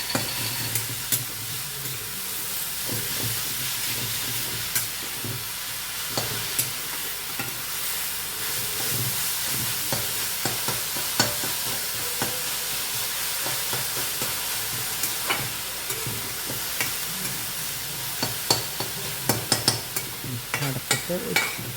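Spinach with turmeric and salt is stirred in a hot pan, a steady sizzle running under repeated scraping and tapping of the spoon against the pan.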